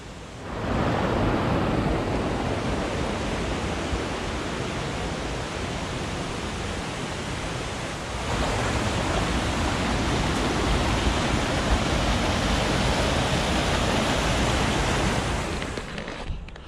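A brook rushes through a woodland gorge in the Peak District's Padley Gorge, a loud, steady broadband roar of flowing water with little variation, close to the microphone.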